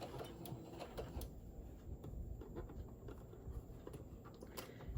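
A sewing machine stitches along a fabric edge while a stuffed bear is being made, running as a steady, fairly quiet mechanical whir with small ticking clicks throughout and no talking.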